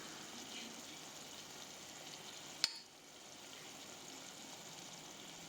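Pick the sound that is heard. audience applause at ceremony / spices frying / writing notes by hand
spices frying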